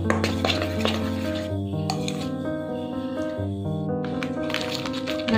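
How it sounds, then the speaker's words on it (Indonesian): A seasoning mixture with baking soda being stirred in a bowl for KFC-style fried chicken, with clinking and scraping of a utensil against the dish, close, over a background of steady tonal music. "Aduk rata ya, biar tercampur ini bumbunya."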